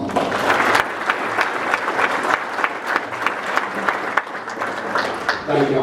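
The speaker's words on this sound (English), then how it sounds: "Let's give him a round of applause." Dense, sustained applause fills a room as an audience claps for an honoree at the GCC annual meeting awards program, steady and loud with no break.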